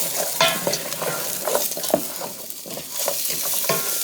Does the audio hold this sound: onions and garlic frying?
yes